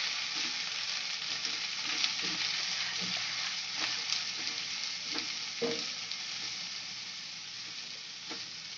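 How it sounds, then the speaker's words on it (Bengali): Spiced paneer curry frying in a pan while being stirred, a steady close sizzle with intermittent scraping stir strokes, no voices. "মিক্স মশলাটা দিয়ে একটু নাড়িয়ে দিই।"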